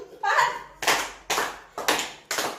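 Five sharp hand claps in a slow, even sequence during a classroom lesson, each a crisp broadband burst with a short decay; a voice is heard before the first clap.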